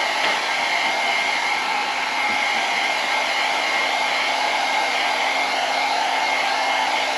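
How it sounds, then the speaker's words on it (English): A hair dryer blows heat over alcohol dye on a marbling project, a loud, steady, unbroken whooshing hum held for several seconds with no talking. "Hair dryer."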